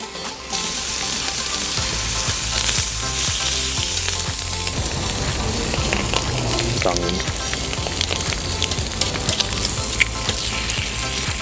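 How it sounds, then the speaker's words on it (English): Bacon laid down on a hot griddle for smash burgers, a loud steady sizzle and crackle of frying fat close by, with occasional scraping and clinks throughout. "Lid off, bacon down, and we'll just make sure it doesn't curl"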